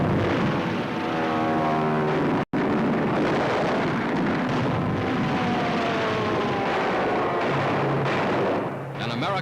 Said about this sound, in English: a Japanese bomber goes down in flames as a United States task force battles a sudden air attack.